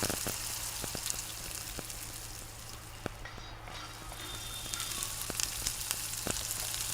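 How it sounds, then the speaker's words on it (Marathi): Fennel seeds roasting in a dry pan for tea masala, a faint steady crackling sizzle with occasional sharp ticks and clicks of seeds or a spoon, close and alone. "आता आपण शेवटला हे बडीशेप टाकणार आहोत. चांगलं हे भाजल्यानंतर"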